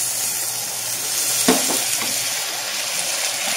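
Diced tomatoes sizzle in a hot pan as a little water is poured in, a brief splash near the middle over a steady close frying hiss.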